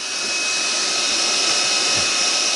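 A homemade 21-volt turbo pump inflating a boat gives a steady, loud, close-up whir with a hissing airflow, running evenly with no talk over it.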